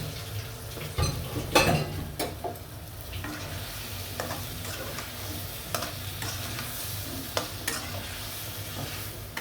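Bitter gourd stir-fries in spices in a pan, a steady sizzle under scattered clinks and scrapes of a stirring utensil, with a louder burst of stirring early on.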